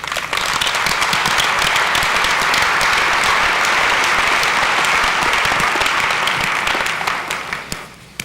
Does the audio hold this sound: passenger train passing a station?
no